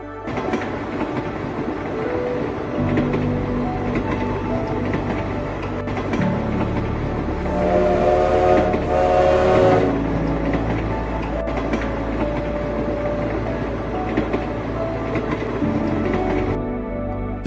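Alishan Forest Railway train climbing through forested mountain slopes in Taiwan, a steady low rumble of rolling wagons with clattering wheels and mechanical clanks, close and continuous, with a brief squealing rise midway.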